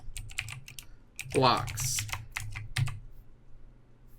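A computer keyboard is tapped in short, irregular clicks under a voice, with a louder clustered burst of keystrokes around the middle while he speaks quietly nearby.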